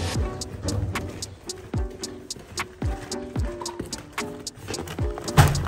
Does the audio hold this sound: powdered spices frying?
no